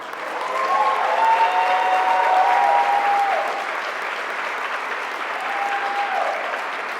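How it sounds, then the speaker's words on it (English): Audience applause at a law school award ceremony, a steady wash of clapping from a seated crowd that swells for a few seconds and then settles to a softer level, with faint tonal voices briefly rising above it. "they should be given a round of applause."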